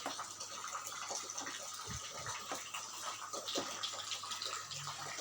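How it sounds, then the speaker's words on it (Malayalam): Potato pieces, cut for homemade French fries, dropped into a pot of boiling water: a faint, steady watery bubbling and hiss with one soft splash partway through, no voices. "വെള്ളം നല്ലവണ്ണം തിളച്ച് കഴിയുമ്പോൾ നമ്മൾ നേരത്തെ കട്ട് ചെയ്ത് വെച്ചിരിക്കുന്ന ഉരുളക്കിഴങ്ങിൻ്റെ പീസുകളെല്ലാം"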